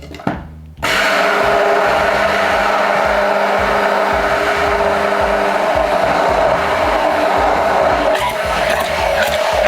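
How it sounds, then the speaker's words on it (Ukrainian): A blender whips plant milk into a lenten mayonnaise. After a brief quiet start it runs loud and steady, a continuous close whirring drone that holds to the end. "І поки що нічого не додаємо, збиваємо це разом."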